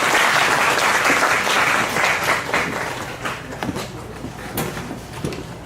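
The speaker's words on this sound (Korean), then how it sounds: "다시 한번 저 투장님에게 박수 큰 박수 한번 부탁드리겠습니다" A seminar audience in Korea breaks into applause for a presenter, loud dense clapping at first that thins gradually toward the end, with a few scattered claps and faint murmurs.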